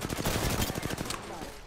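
Rapid gunfire in the Apex Legends video game, a fast burst of close, loud shots in quick succession that cuts off abruptly before a brief quieter tail.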